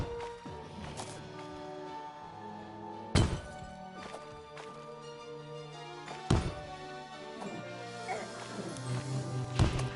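Bombs go off in the video game Terraria as three brief, dull booms spaced a few seconds apart, set over steady in-game music.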